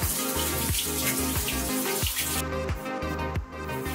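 Water runs steadily from a kitchen tap while fingers are rinsed under it, a close, continuous splashing stream with small shifts in tone as the hands move.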